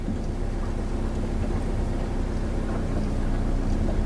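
A car backing up in reverse gear, giving a steady, even low engine drone with broad rumbling noise that holds constant from start to finish.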